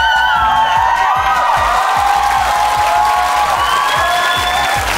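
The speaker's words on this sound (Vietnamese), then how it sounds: "vỗ tay cái thiệt lòng cho số 2 coi" A studio audience at a Vietnamese dating game show bursts into loud, sustained applause with rapid dense clapping, mixed with some cheering and excited shouts.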